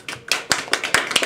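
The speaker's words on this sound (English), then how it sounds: "Let's give him a round of applause." A small group claps after a speech, a few scattered uneven hand claps over about a second, fairly close and without talk.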